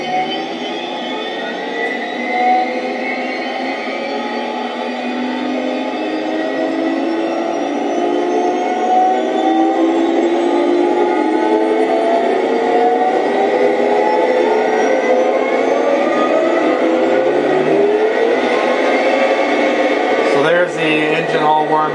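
RC battle tank's small engine starting and running, a continuous whirring drone with shifting tones that holds steady throughout before a brief clattering burst near the end.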